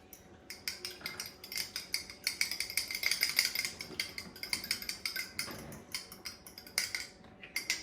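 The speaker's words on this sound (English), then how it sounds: "Next, you're going to whisk." Eggs whisked in a bowl, quiet rhythmic clinks and taps of the whisk against the side, close and fairly soft, repeating in quick uneven strokes.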